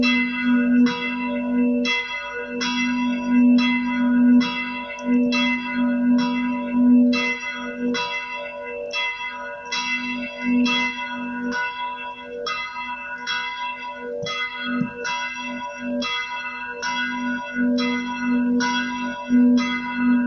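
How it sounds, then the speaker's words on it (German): Church bells ringing at one o'clock, continuously in a steady, rhythmic peal with a sustained low hum beneath, clear and fairly close, no voices. "hier kann man mal das Läuten richtig schön hören."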